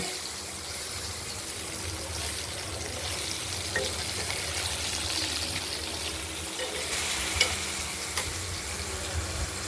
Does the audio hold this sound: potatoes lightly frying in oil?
yes